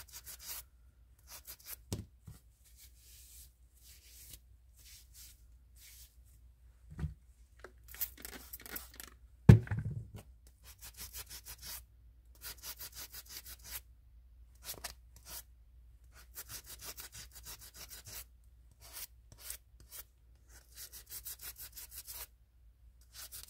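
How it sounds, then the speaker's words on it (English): Intermittent rasping strokes of sanding a slightly damp surface, short scratchy bursts with pauses between them, close and fairly quiet. "I'm sanding, but it's a little damp, so maybe it won't."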